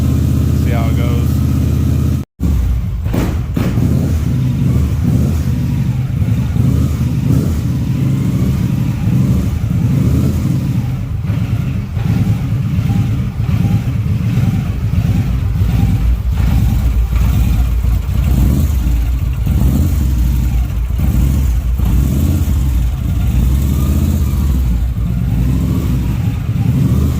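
A Victory motorcycle engine, just jump started and running without an alternator, holds a loud, steady, close idle with a slight rough pulse. It runs almost continuously after a brief cutout near the start.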